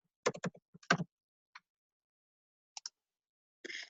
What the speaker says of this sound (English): I'm typing this information in.